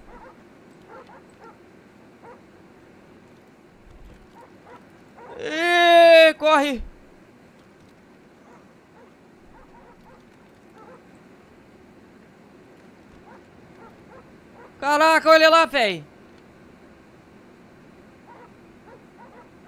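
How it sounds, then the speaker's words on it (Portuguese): Dogs in GTA 5 give two short bursts of barking, several seconds apart, over a low game hum, with someone talking at times. "O cachorro cuspindo fogo."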